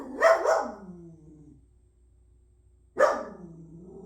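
A dog barks twice in quick succession, then once more after a pause, fairly close and clear with no speech.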